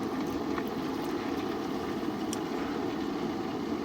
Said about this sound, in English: now you can see it's pumping away